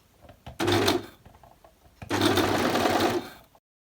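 An overlocker stitches a jacket seam in two loud bursts, each about a second and a half of fast mechanical whirring, separated by a short quiet pause with faint handling noise.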